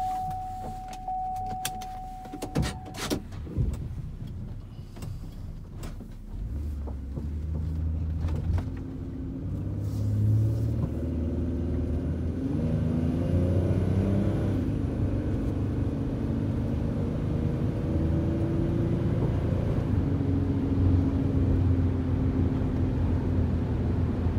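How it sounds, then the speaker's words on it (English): A 2006 Buick Rendezvous on a test drive: a couple of door or switch clunks, then steady engine and road rumble that builds as the SUV gets up to speed and holds a constant cruising drone. "We're going to take this 2006 Buick Rendezvous out on a quick test drive."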